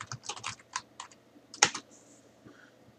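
Quick, close taps of a computer keyboard as a search is typed, an uneven burst of keystrokes followed by one louder key hit and a few softer clicks.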